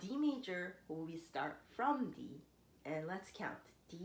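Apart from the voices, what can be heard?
No everyday noise stands out behind the speech.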